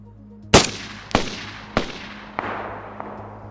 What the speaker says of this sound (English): The Scorpion is one of the most easy to distinguish low caliber weapons for its rate of fire and unique weapon sounds